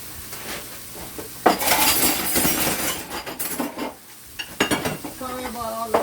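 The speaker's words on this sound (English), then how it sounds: "I just tipped over my cutlery container." Cutlery container tipping over in a small home kitchen, spilling metal utensils in a loud clattering burst of clinks and rattles that settles into scattered jingles, with some pan sizzle underneath.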